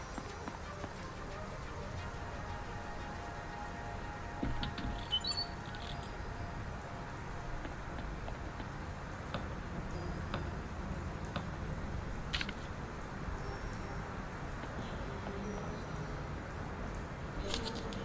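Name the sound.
heavy rain in the video game Dyschronia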